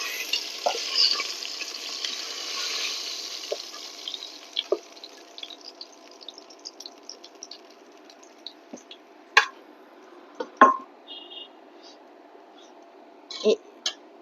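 Catla fish pieces fry in oil until brown: a soft hiss of sizzling that fades, broken by scattered drips, pops and sharp utensil clicks against the pan.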